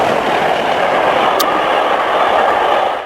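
A steam train runs steadily, a continuous rushing, hissing rumble at even loudness, with no voices.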